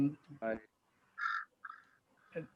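Crows cawing outdoors, a few separate harsh calls spaced across a couple of seconds, with a brief bit of human voice at the start.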